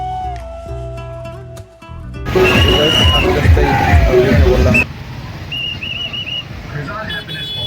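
A dense crowd bustles at a busy railway level crossing just after a train has passed, with loud babble of voices, traffic noise and whistle-like tones; near the start, music plays before the street noise rises, then it eases slightly.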